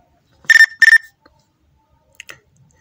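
Two quick, bright electronic chirps from a Nextel phone notification tone sound close together, followed by silence and a faint click.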